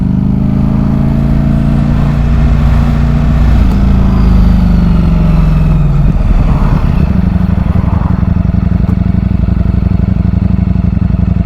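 A loud Ducati Panigale V4S motorcycle engine with an aftermarket exhaust runs continuously up close, its pitch dipping and rising slightly as it revs and settles, with no voices.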